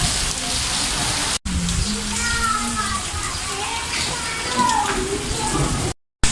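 Steady rain falls on a surface nearby, a dense continuous patter with brief breaks, and faint voices in the background.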